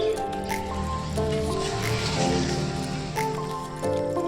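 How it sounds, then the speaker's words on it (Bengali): Water from a small pot drips and splashes onto a tulsi plant in a village setting, a soft continuous trickle with faint squishing drops, fairly quiet and close. "একটা ঘট দিয়ে এবার জল দিতে হয় তুলসীকে"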